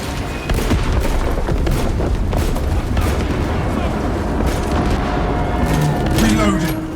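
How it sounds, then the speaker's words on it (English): Explosive charges detonate in Space Marine 2 as a dense, continuous barrage of booms and blasts rolling on for several seconds, with voices talking over the combat din. "Detonate the charges now."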